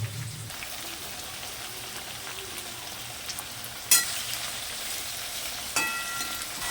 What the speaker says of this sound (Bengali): আলুটা যখন ভাজা হয়ে যাবে মশলা দিয়ে তখন এইটা দিয়ে দেব